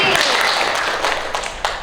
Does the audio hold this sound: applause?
yes